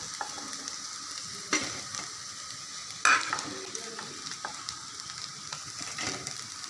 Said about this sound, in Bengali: এভাবে আমি সবগুলো বড়া ভেজে নেব।